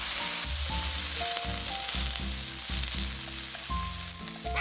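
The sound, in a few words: garlic and sugar snap peas sizzling in a pan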